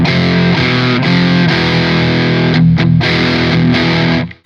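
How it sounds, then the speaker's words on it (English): Heavily distorted tube amp electric guitar recorded through a Two Notes Torpedo Captor X, loud sustained chords ringing with thick harmonics and a few brief breaks before fading out at the end. "you get all the sustain and all the, the distortion and the character from the tube amp."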